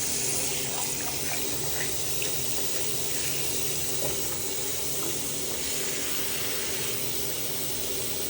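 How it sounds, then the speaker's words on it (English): Hot water runs from a tap into a bowl, a steady, close, full-bodied rush with a faint gurgle as the bowl fills, continuous and unbroken from start to finish with no talking. "I'm gonna fill it up with a little bit of hot water."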